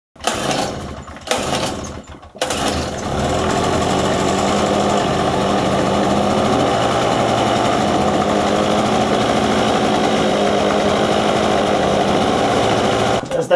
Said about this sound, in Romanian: Asta e un generator mai mic